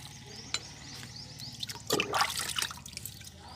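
Liquid fertilizer poured from a container onto large hibiscus and other garden plants, a soft trickle swelling into a fuller splash on soil and leaves, close and fairly quiet, no voices.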